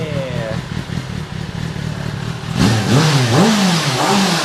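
A 2023 Kawasaki ZX10R sport motorcycle engine on a dyno idles roughly, then blips and revs up and down sharply, loud and close, with a voice speaking over it.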